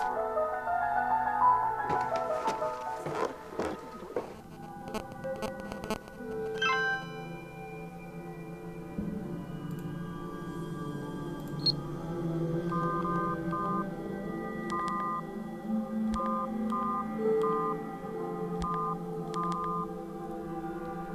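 Phone keypad tones sound while an SMS is typed in the video game Dark Fall: a string of short, evenly spaced beeps, quiet and clean over a low ambient hum and a few sharper clicks early on.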